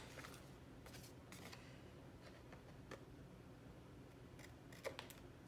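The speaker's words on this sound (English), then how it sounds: "And for the other side, I'll use scissors." Several quiet, crisp snips of scissors cutting through material, spaced irregularly over a soft steady background hiss.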